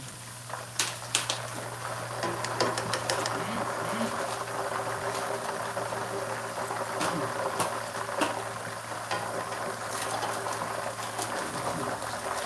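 Kaffir lime leaves frying in hot oil: a steady, dense sizzle and crackle throughout, with scattered sharper pops, close and moderately loud.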